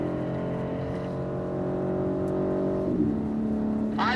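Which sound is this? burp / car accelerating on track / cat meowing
car accelerating on track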